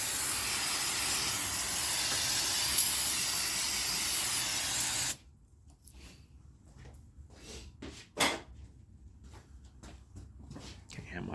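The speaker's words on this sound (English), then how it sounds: "Let me clean this area with brake clean." Brake cleaner sprays in a long, steady, loud hiss over the engine area of a Lexus LS460 under repair for a misfire, then cuts off abruptly, leaving scattered clanks and faint workshop noise.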